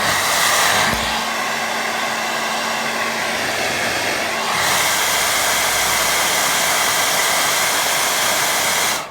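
A hair dryer blows steadily on a watercolour painting of a woodland walk, its loud, close whoosh cutting in pitch and tone about a second in, shifting again midway, then running on before switching off.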